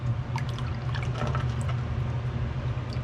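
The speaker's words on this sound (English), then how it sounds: "what I can do before the flux in the crucible sets up, I'll just pour it right into my water" Molten silver and flux poured from a crucible into a container of water, giving a steady, dense hiss and watery sizzle that stays loud and unbroken for the full three seconds, with no talking.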